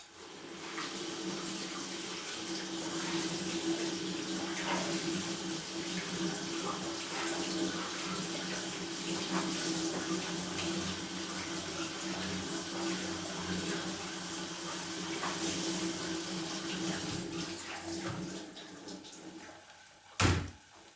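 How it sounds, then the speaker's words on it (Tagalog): Pak choy leaves washed under running tap water, a steady close rush of water splashing over greens for about twenty seconds, ending with a brief knock. "hugasan ko muna yung green leafy vegetables ko guys"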